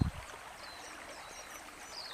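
River water flows steadily in a soft, continuous wash while trout fishing, heard close and fairly quiet with no talking.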